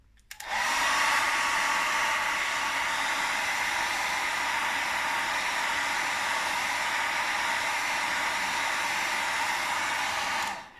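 Hair dryer blowing over a paper card craft, a steady close whooshing roar that switches on, holds evenly for about ten seconds, then cuts off.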